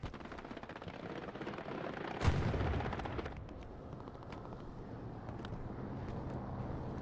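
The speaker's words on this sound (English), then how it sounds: "Some rockets coming across from Data." Rocket fire in Hell Let Loose on the Carentan map: a sharp, loud impact-like blast near the middle, followed by a rumbling tail over continuous battlefield noise and distant gunfire.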